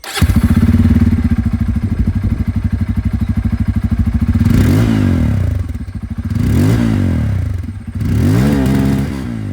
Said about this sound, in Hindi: यहाँ पर N250 में आ रहे तो डुअल वाला, इसकी भी एग्जॉस्ट साउंड जो वो आप लोग सुन लीजिए